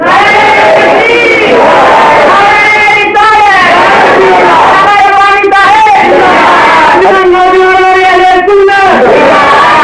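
A large crowd at a religious gathering about Karbala and Husain chants slogans in loud, sustained unison. The cries come in repeated rising and falling waves that fill the space close and overpowering.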